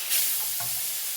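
Sauce with meat juices is stirred in a hot saucepan, a steady close sizzle and hiss with a brief scrape of the spoon, short and fairly loud, with no voices.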